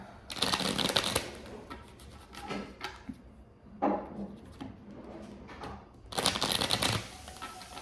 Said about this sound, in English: let's go and pull a couple oracle cards before we close it out